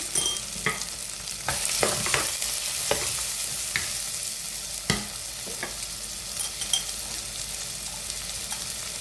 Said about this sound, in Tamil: நான் ஒரு தேக்கரண்டி உப்பு போட்டு வெங்காயத்தை வதக்க போகிறேன்.